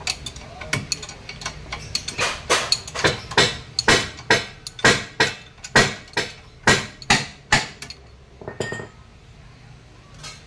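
Sharp metallic hammer blows ring out on a Mitsubishi Mirage ball joint, falling close and loud in a steady, evenly spaced series, then a few lighter knocks at the end.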